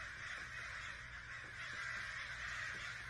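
A bird from a TikTok clip squawks in harsh, raspy, crow-like calls that run on steadily for a few seconds over a constant background hiss.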